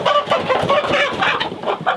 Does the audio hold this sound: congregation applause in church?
no